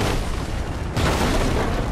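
A grenade in Fortnite goes off with a deep booming blast partway through, cutting in abruptly over low background game noise, loud and alone without talk.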